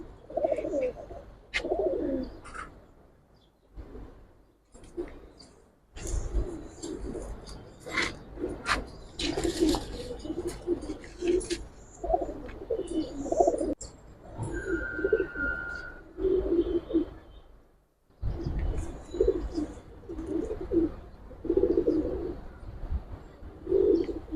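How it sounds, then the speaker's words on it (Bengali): Several pigeons coo in a loft, repeated soft rolling coos coming close and clear in bursts, with occasional chirps and brief pauses of near silence. "সবুজ গোলা কবুতর আছে"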